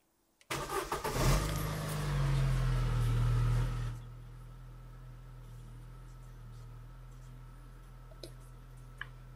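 A Vauxhall Tigra car engine cranks and catches, roaring up loudly for a few seconds, then drops back to a lower steady idle hum with faint ticks, close by.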